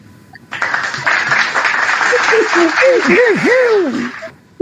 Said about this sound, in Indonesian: Gue bilang tepuk tangan dulu